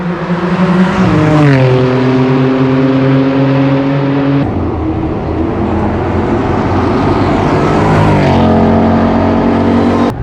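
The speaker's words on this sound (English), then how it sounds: "We have the M2 competition approaching, turning that corner, and sounds maddening." A BMW M2 Competition rounds a corner on a Formula One race track, engine howling loud and close with rising revs, sharp gear changes and a swelling pass-by roar.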